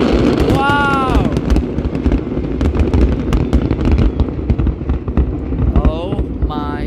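A dense run of New Year 2022 fireworks explosions at Al Marjan Island pops and booms continuously, with whistling rockets rising near the start and end and people talking underneath.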